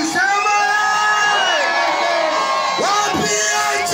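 Stadium crowd at a county governor's inauguration ceremony in Maralal cheers and shouts loudly, sustained whoops and rising and falling yells from many voices, close and continuous with a few sharp individual cries.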